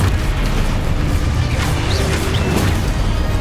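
A Confringo blast spell from Hogwarts Legacy on Xbox Series S booms in a loud, sustained wash of explosive noise, with deep rumble and crackling bursts layered throughout.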